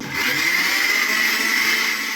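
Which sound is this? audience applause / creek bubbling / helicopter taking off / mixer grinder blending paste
mixer grinder blending paste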